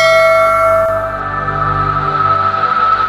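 A notification bell sound effect rings out loud and clear, its bright metallic tone sustaining and slowly fading over about three seconds, alone with no voices.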